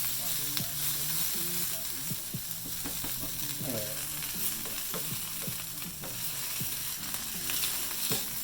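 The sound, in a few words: tuna taco shells sizzling while frying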